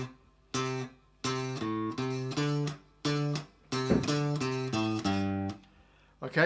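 An electric guitar plays the opening two bars of a riff, with loud, clear chord stabs in a choppy, repeating rhythm separated by short gaps.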